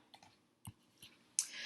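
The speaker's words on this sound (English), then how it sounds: "Click the down arrow next to Message Review to expand the panel." A few soft mouse clicks close by while a computer messaging panel is operated, spaced irregularly over about a second, followed by a louder short burst of noise, with no talk.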